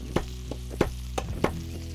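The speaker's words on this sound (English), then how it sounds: "Now we just add our garlic" Garlic and butter sizzle and fry in a hot pan for a steak pizza, a steady crackling hiss broken by a few sharp clatters and stirring knocks, heard up close with no talking.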